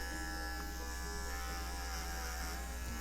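Continuous close buzzing hum of electric clippers shaving the ear of an American Cocker Spaniel, holding a steady tone throughout with no pauses.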